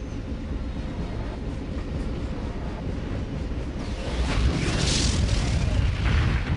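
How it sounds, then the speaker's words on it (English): Explosion in the retro racing video game POD, a deep rumbling roar filling the mix that swells louder partway through with a harsh hissing burst on top, continuous and dense. "And then it explodes."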